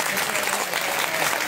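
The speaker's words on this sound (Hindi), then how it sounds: "आप लोग जितने जोर से ताली बजा सके हो आप लोगों के लिए ताली बजा" Audience clapping at a Bhagwat katha religious gathering in Noida, a dense steady wash of many hands heard up close, continuous and loud throughout.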